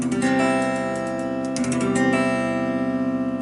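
A guitar chord rings out, strummed a couple of times and left to sustain, clear and close with no talking.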